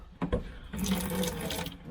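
Water runs from a tap in a camping trailer with a heated boiler, a brief sputter and then a steady splashing flow into a sink, close and fairly quiet, with no talking.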